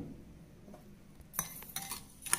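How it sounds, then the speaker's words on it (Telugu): Homemade pancake batter with sugar and milk being beaten in a bowl, heard as quiet metallic clinks and scrapes that start after a faint lull and continue as a short irregular series, close by. "ఇలా బీట్ చేశాక"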